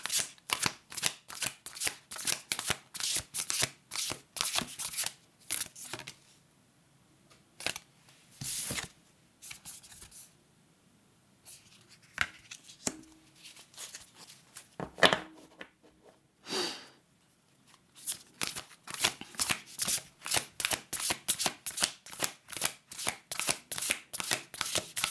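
Oracle cards being shuffled by hand, fast rhythmic riffling bursts at the start and end with a quieter stretch of sparse card handling and shifting between them, close to the listener.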